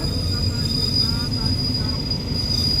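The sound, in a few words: freight train stopping at Ban Pong station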